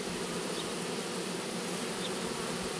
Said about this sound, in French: on voit bien les abeilles qui battent le rappel